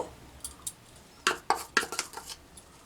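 A bowl and utensils clink and tap while gram flour batter is prepared: a few light knocks, then a quick cluster of sharp metallic clatters close by, with no talking.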